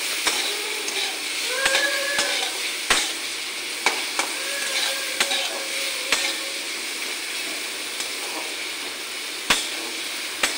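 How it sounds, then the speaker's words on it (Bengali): Onion and carrot stirred with salt in a sizzling pan, a steady hiss broken by sharp spoon scrapes and taps against the pan at irregular intervals, close up, no talking. "নুনটা পেঁয়াজের সঙ্গে গাজরের সঙ্গে মিশিয়ে নিই।"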